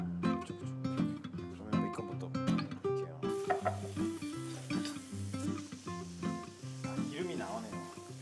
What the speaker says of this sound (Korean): 베이컨을 먼저 볶으면 그 베이컨 기름으로 또 양파를 볶을 수가 있잖아요